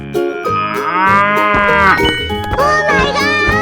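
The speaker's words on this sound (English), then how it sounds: "Cow." A cow in a 3D animal slide video game gives a loud, long moo, then a second shorter moo, over game music.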